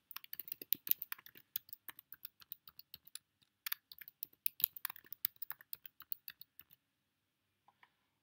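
Keystrokes on a computer keyboard as a password is entered, a close, quiet run of crisp clicks in irregular bursts that pause briefly and then trail off near the end.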